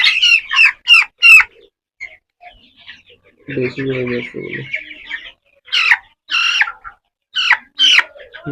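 Chickens on a small poultry farm of about a hundred birds cluck and squawk loudly and close by in short bursts with brief pauses, while a low voice briefly speaks in the middle.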